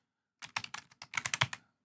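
Password being typed on a computer keyboard during a Fedora 42 install: about a dozen quick, crisp keystrokes close to the mic, with a short pause partway through, then silence.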